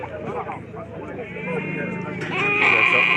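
Sheep bleating at a crowded Moroccan livestock market, one or two drawn-out bleats rising near the end over a constant murmur of people talking and haggling.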